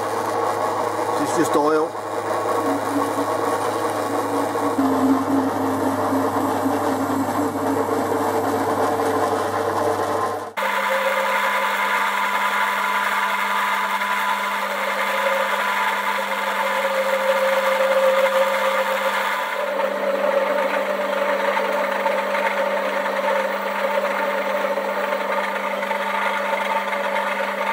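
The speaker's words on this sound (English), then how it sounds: "I've set the parting tool up, just parting it off there. I'm on a slow speed." A lathe runs at slow speed while a parting tool cuts off a metal workpiece, a steady droning whir and hum that holds throughout, with a brief shift in tone partway. Someone talks over it.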